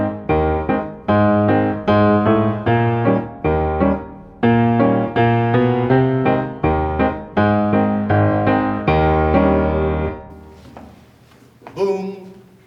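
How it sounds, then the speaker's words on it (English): A ragtime piano's left hand plays a boom-chick pattern, a low octave alternating with a chord in a steady bouncing rhythm, close and clear, ending in a few scattered notes and a brief noise. "Boom, chick. The boom is an octave. Chick is a chord."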